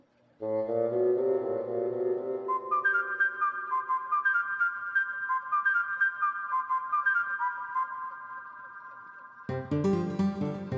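A phone ringing in a TV serial scene, a sustained tonal electronic ringtone with a steady pulsing melody, loud and close, cut off by a burst of other sound at the end.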